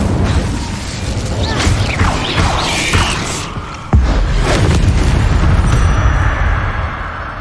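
An Incendio fire spell cast in Hogwarts Legacy inside a cave: a loud whooshing burst with a sharp crack partway, followed by a sustained roaring crackle of flame and rumbling magic effects.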